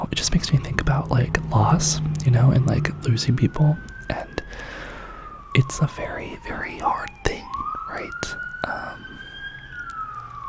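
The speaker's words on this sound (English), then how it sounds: "Sorry for the sirens." Emergency vehicle sirens wail outside, rising and falling in long sweeping tones that carry on in the background while a person speaks in a close, soft whisper.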